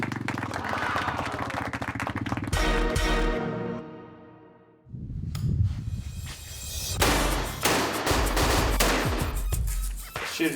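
Rapid bursts of loud gunfire, close and harsh, with a short lull in the middle before more shots follow, during a night hunt on opening day.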